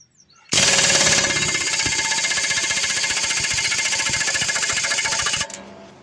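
An impact wrench hammers down a knife bolt on a New Holland Diskbine 313 disc mower, starting abruptly and rattling loud and close in a continuous burst for about five seconds before cutting off.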